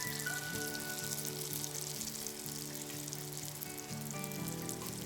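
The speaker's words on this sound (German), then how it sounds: "Dann weiter braten." A continuous, even sizzle comes from meat-filled mushrooms turned over and frying on in a hot pan, heard up close with soft music underneath.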